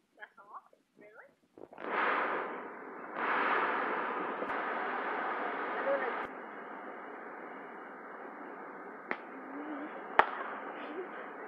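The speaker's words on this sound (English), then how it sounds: "Wow, that's a lot of fireworks." A long rumbling roar of distant Fourth of July fireworks with sharp isolated cracks and pops standing out, faint voices early on.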